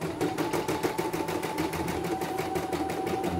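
A CNY embroidery machine runs up close at a steady fast rhythm, its needle stitching in a rapid, even mechanical clatter with no talking.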